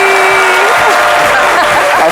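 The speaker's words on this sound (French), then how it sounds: "Merci d'applaudir très fort Carole Poissy" A television studio audience claps loudly and steadily for a guest, a dense continuous wash of applause lasting about two seconds.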